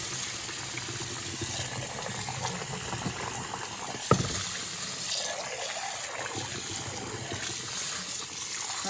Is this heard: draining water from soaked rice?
yes